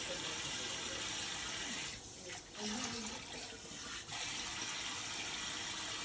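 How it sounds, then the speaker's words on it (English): Dishes being rinsed under a running kitchen tap, a steady close hiss of water with a brief shift in the flow midway and a faint clink, no talk. "Now that I've rinsed all the dishes"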